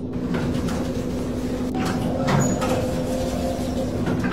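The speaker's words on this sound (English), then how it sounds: "The doors are closing. This car is now departing." Funicular cable car doors slide shut with a few soft thuds and clunks, then the car starts off with a steady rumbling hum throughout.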